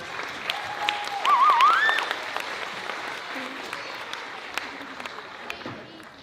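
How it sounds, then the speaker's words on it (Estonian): Applause from a school audience after a fifth-grade act at a school playback lip-sync show, a broad steady clatter of many hands filling the room, with a whistle-like tone early on and a presenter's voice over it. "Aplaus, 5. klass."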